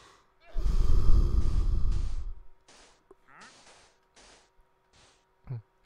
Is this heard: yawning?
yes